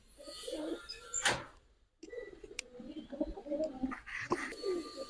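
A young pigeon coos in soft, irregular rumbling phrases nearby, broken by a sharp knock and a short silent gap, with light handling noises around it.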